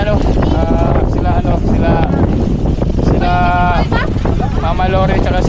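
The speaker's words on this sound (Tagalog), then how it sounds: "Lakas na ng hangin guys." Strong wind roars and buffets the microphone continuously, loud and steady, with people talking over it throughout.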